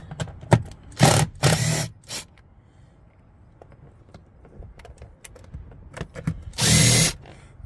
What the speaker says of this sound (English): Don't you just love power tools?